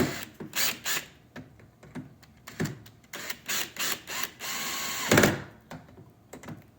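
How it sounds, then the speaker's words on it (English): A socket wrench tightens a shock bolt on a Lenz skibike in a series of close, crisp ratcheting strokes with short pauses between them, then one longer burst near the end, with no talk. "I'm going to tighten it with the socket as tight as I can."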